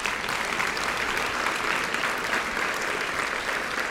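Sustained applause from the audience at a Rotary Club lunch meeting, a steady dense clapping that fills the room evenly for several seconds with no talk over it.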